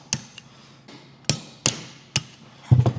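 A small punch is tapped with a hammer to drive brake pad pins out on an Evo 8, sharp metallic knocks at an uneven pace, about five distinct hits and then a quick cluster of taps.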